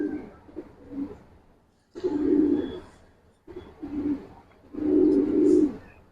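Giribaz and colored pigeons coo in two loud, rolling bursts separated by brief pauses, with softer cooing between them and no talk.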